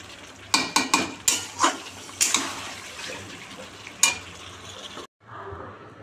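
Chicken kosha is stirred in a sizzling pan, a metal spoon scraping and knocking the pan in several sharp strokes over steady frying, close by, before the sound cuts out abruptly.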